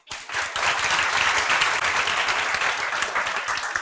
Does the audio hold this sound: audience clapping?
yes